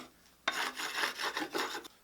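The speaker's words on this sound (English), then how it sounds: "I've got a really old putty knife that I've sharpened, and I'm just going to try to get off all of the little imperfections" An old, sharpened putty knife scrapes imperfections off OSB plywood in a quick run of short, rasping strokes, close and fairly quiet, with no voices.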